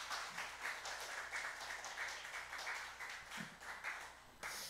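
A church congregation clapping in praise during a Sunday service, a dense, continuous round of many hands at moderate distance, rising and falling slightly, with no speech over it.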